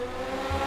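Legends race cars from the UK Oval Track Legends Series, coupes and sedans, racing at Buxton oval: a brief, steady, loud engine roar of cars at speed, with no break and no voices.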